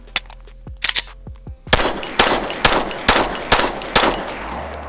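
Roughly eight sharp pistol shots from an FN 509 handgun fitted with a laser sight, first a few lighter cracks then a steady string of loud, reverberant reports spaced about half a second apart.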